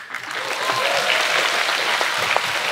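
A school talent show audience applauds after a junior performance group finishes, with full, steady clapping from many hands and a few faint whoops rising through the crowd noise.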